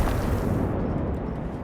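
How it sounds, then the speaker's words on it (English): Explosions in the video game Generation Zero, a dense, continuous rumbling roar of blasts at moderate loudness that stays steady throughout. "I have my own explosions"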